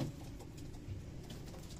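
A pet pigeon or dove in a home setting gives soft, low cooing and faint rustling patter, quiet and close throughout, with no talking.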